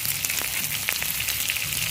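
Cauliflower pieces frying in hot oil until browned, a loud, dense, close crackling sizzle that runs steadily throughout with scattered pops and no speech.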